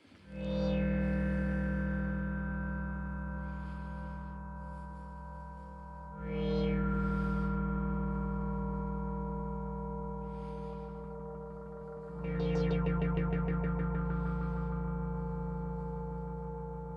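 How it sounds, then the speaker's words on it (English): A Moog Matriarch synthesizer plays a sequence forming an evolving pad, with three swelling chord notes arriving about every six seconds, each with a bright attack that slowly fades under a deep, steady drone. "So let's leave it off and I'm going to play the sequence."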